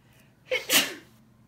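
A single person sneezes once, close and fairly loud, a sharp burst after a brief inhale against a quiet room during a lash extension appointment.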